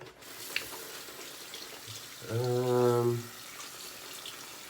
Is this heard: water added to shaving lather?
yes